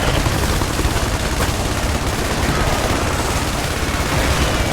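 Dense gunfire in the video game IS Defense, a continuous barrage of overlapping shots and machine-gun bursts, loud and unbroken throughout with no voices.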